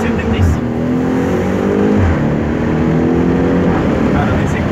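A BMW X6M in Sport mode accelerates with a loud, close engine roar that rises steadily in pitch through the gears, while people talk over it inside the car.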